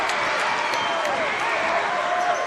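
Basketball crowd in a high school gym roaring in a steady, dense wash of cheers and applause at Bedford at Central, loud and continuous, with a commentator's voice running faintly underneath.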